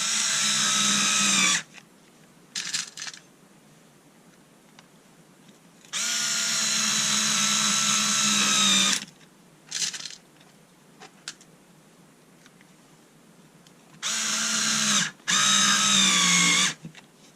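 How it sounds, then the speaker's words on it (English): A Black & Decker 3.6v cordless screwdriver drives small screws in three loud, steady whirring bursts of a few seconds each, separated by quiet gaps with short clicks and handling noises, heard close and without talk. "We'll just try it with a few little screws as I've done with most of the others."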